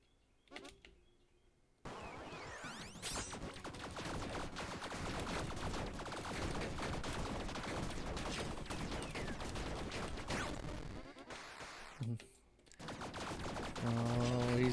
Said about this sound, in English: I mean, there are some explosions